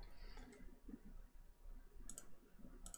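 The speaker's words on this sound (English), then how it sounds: "you can check your file by right-clicking" Faint computer mouse clicks during work in Fusion 360 CAM software, two pairs of quick crisp clicks over a quiet room hum, no talk.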